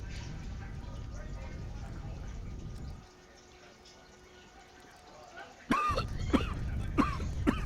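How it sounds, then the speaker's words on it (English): A person coughs in smoke in the game Broken Sword 3: The Sleeping Dragon. After a quiet stretch, several harsh, close coughs and throat-clearing sounds come in quick succession. "Somewhere in the smoke, I could hear coughing."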